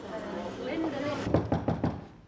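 A voice talks, then four quick, firm knocks on a door ring out in a short even rhythm.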